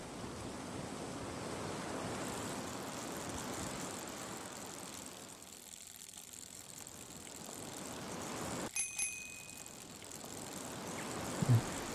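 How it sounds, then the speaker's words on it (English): A steady, breathy whoosh of wind in the video game Burgers & Frights rises and falls over a soft low rumble, with a brief quiet lull and a few faint clicks. "It's windy out here today."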